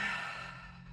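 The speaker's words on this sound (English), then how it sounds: "Just take a deep breath." A single slow, deep breath during a calm meditation, soft and close, an airy exhale fading gently over about a second with no talking.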